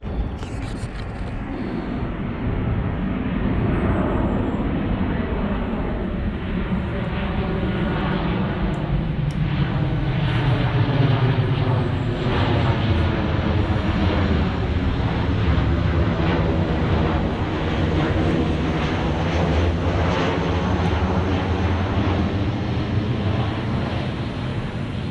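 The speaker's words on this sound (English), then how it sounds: "airplane." A fixed-wing airplane passes overhead above a carp fishery on a summer day, its steady engine drone swelling to a peak midway and slowly fading, loud and continuous throughout.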